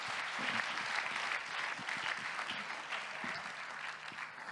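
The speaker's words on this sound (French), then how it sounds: "Juste applaudir." A convention audience applauds with a steady, dense burst of clapping from a crowd of many hands, sustained evenly throughout.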